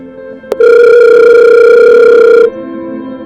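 An outgoing phone call rings unanswered: a single loud, steady ringback tone holds for about two seconds over a faint background hum, with no voices.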